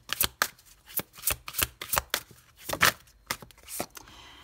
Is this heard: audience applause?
no